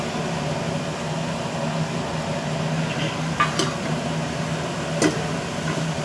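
Grated coconut being stirred into a Mangalore beans sabji in a pan, soft steady scraping and a faint sizzle under a hum, with two brief clinks of the spoon.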